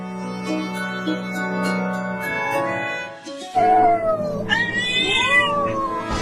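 A cat meows loudly and insistently at close range, a long drawn-out wailing call followed by further rising and falling yowls.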